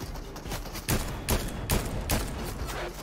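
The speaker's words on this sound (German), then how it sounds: "Oh, oh, oh, Schüsse auf mich." Rapid gunfire in a battle royale video game crackles as a dense fusillade, sharp repeated shots with several louder bursts standing out over a constant noisy background.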